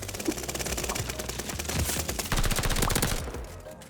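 A PPSh-41 submachine gun rattles off rapid automatic fire in Call of Duty: Vanguard, one long, fast, evenly pulsed burst at close range that cuts off near the end.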